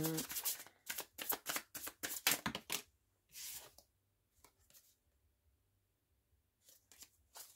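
Oracle cards shuffled by hand give quick bursts of crisp riffling and slapping, a rapid run followed by a few softer, scattered flicks after a pause.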